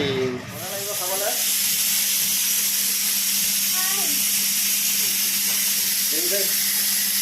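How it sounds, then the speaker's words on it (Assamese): Meat mixed with spices sizzles and hisses steadily in a hot pan in a home kitchen, a loud constant frying roar, with a voice and brief talk heard faintly over it. "এতিয়া ইয়াতে মাংসখিনি মিহলি কৰিম আৰু মাংস ভালকৈ ভাজিম"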